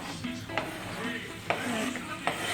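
Beef and egg cook in a pan on a heater, a soft sizzle broken by several scrapes and clinks of a utensil stirring against the pan, fairly quiet and close.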